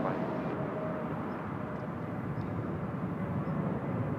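A Lufthansa airliner at Seoul Incheon Airport gives off a continuous low jet engine rumble, steady and moderately close, with no voices over it.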